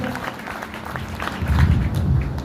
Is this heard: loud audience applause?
yes